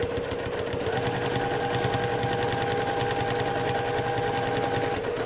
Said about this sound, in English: with free motion quilting, I am regulating the stitches